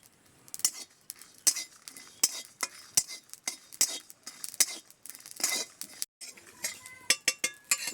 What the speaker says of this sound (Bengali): শুকনো খোলায় 2টো শুকনো লঙ্কা, গোটা ধনে, আর দিয়ে দেবো একটু গোটা জিরে দিয়ে আমি একটা মশলা তৈরি করে নেব। শুকনো খোলায় নেড়ে চেড়ে